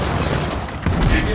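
Gunfire in the Gears of War 4 campaign, with a brief burst of rapid shots and a heavy thump near the end, loud and close over a busy game background.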